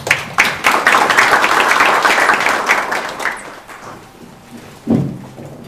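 A seminar audience at a games-industry policy event gives a loud burst of applause to welcome a speaker. Dense clapping fills the first few seconds, then thins out and fades, with a short thud near the end.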